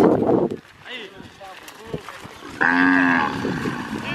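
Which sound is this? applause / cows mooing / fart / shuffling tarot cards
cows mooing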